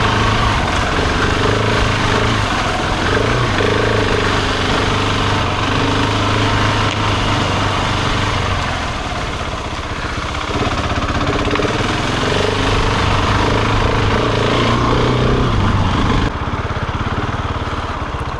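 Husqvarna 701 Enduro single-cylinder motorcycle ridden off road in wet conditions, its loud engine droning continuously up close with rising and falling throttle and a brief dip mid-ride, and no voices.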